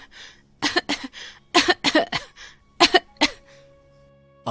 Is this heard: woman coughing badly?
yes